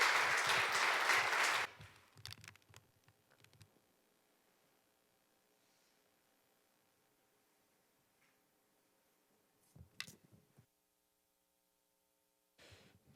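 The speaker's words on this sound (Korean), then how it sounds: "박수 한번 크게 부탁합니다." A church congregation breaks into loud, dense applause during a worship service, the clapping lasting under two seconds before cutting off into near silence with a few faint scattered knocks.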